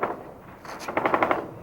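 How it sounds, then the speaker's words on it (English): AK-47 rifle fire during combat in Iraq, a short rapid burst of several cracking shots heard from a distance, faint and alone. "This is the sound of AK-47 fire."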